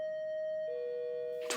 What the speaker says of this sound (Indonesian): seseorang memencet bel rumah yang tentu mengganggu mereka